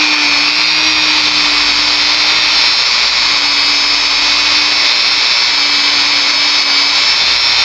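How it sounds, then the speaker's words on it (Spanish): A power tool whirs steadily as it polishes sewing machine hook parts, a constant high-pitched motorized whine with an even hiss that stays loud and close throughout, with no talking. "Y vamos a pulir las piezas."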